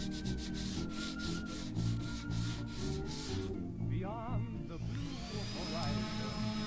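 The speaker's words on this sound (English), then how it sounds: "Hand sanding with 220 and finishing with 400 grit." Hand sanding of a wooden mid-century dresser using 220 grit sandpaper produces steady rhythmic rubbing strokes, close and moderately loud, with a scraping, whooshing texture and other faint background noise.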